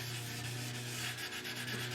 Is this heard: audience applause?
no